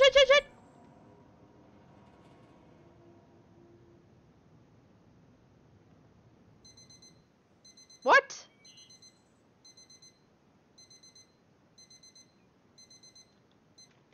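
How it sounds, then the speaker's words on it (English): An alarm clock in the video game The Final Station rings in repeated short beeping bursts after a brief loud start. One thump and a short spoken word break in partway through. "Turn alarm off."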